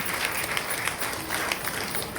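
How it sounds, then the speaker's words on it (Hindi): Audience at a success-story gathering applauds in a steady, even wash of many hands clapping, continuous and moderately loud with no talk over it. "तो सबके लिए जबरदस्त ताली होना चाहिए।"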